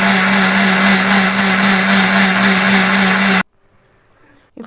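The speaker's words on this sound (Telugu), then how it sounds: "మసాలా కోసం మనము ధనియాలు, జీలకర్ర, అల్లము, వెల్లుల్లిపాయలు, జీడిపప్పు పేస్ట్ చేసుకుందాం" Loud, steady whirring drone of a kitchen blender grinding coriander, cumin, ginger, garlic and cashews into a masala paste, running for several seconds before cutting off abruptly into near silence with a faint rattle at the end.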